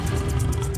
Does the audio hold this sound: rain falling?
no